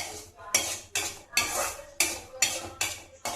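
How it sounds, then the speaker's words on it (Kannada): A metal spoon scrapes and stirs rava (semolina) roasting dry in a pan, seven regular scraping strokes about half a second apart, close and moderately quiet, with no talking. "ಫ್ರೆಂಡ್ಸ್ ನೋಡಿ, ಈ ರೀತಿ ಚೆನ್ನಾಗಿ ಹುರ್ಕೊಳ್ಬೇಕು ಒಂದ್ಸಲ."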